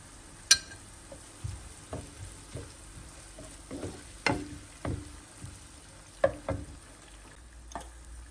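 Two garlic cloves frying in a pan for a meyhane-style pilaf with broad beans, heard as a soft, low sizzle under a series of sharp utensil taps and scrapes from stirring, spaced irregularly across the stretch.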